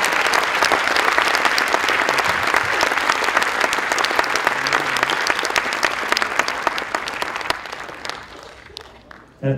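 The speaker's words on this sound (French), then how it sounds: "vous pouvez applaudir plus fort que ça" A large audience at an underwater-image festival's freediving evening breaks into sustained, dense applause, loud and steady for most of the stretch before thinning near the end, with a faint voice or two under the clapping.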